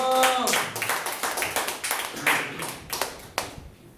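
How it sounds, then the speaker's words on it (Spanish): Church congregation claps for Jesus during a sermon, a sparse, uneven patter of hand claps near the start that thins into scattered individual claps by the end. "Dale un aplauso a Jesús."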